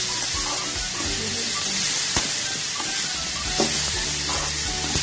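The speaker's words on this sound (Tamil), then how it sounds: "சிம்லே வச்சு நல்லா வதக்கணும்." Beetroot frying in a pan over a low flame, giving a continuous dense hiss and sizzle with occasional stirring scrapes and a few sharp clicks; close and steady, no voices.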